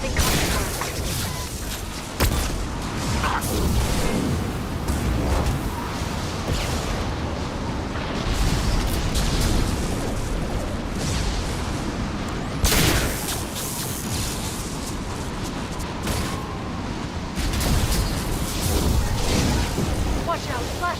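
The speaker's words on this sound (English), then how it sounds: "Watch out, flashbangs!" Flashbang grenades go off amid a firefight in Mass Effect Legendary Edition, with dense booms and bursts of gunfire layered over game sound and music at a constant loud level.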